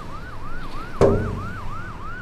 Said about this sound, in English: the noise, the sirens on the highway